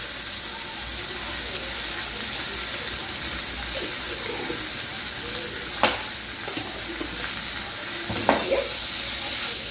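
Poppy seeds and white mustard seeds being stirred in a frying pan for a fish dish: a soft continuous sizzle with occasional sharp scrapes and clinks near the end, faint and close, no clear talk.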